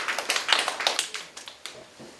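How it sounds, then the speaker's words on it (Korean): A small audience at a Korean university admissions seminar gives a brief round of applause, a few scattered claps in quick succession that thin out after about two seconds, moderately close. "네, 박수 한번 부탁드리겠습니다."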